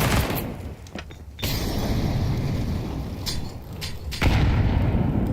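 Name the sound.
grenade explosion in Counter-Strike 2 video game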